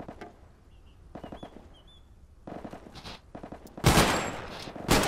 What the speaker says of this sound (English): Wait, can they shoot through the house?